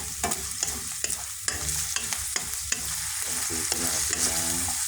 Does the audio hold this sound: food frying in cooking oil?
yes